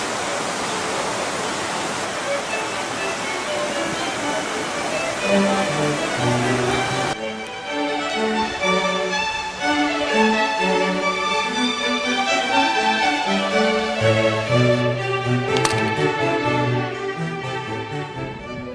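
A river in Olympus National Park rushes as a steady, loud broadband roar. After several seconds, tuneful music rises over the flowing water and carries to the end.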